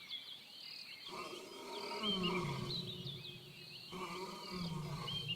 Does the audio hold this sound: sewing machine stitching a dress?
no